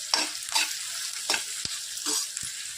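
Onions frying with salt in a pan for a brinjal vegetable dish, stirred in several brisk scraping strokes over a hissing sizzle, close and clear with no talk.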